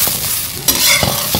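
Ingredients fry in a pan while being stirred, a loud close sizzle with scraping strokes and a sharp knock midway, brief and without voices.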